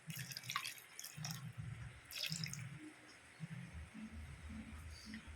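Water splashes and drips as it is poured into a pot of Bengali fish curry in a home kitchen, a faint trickling with brief splashy bursts under intermittent talking.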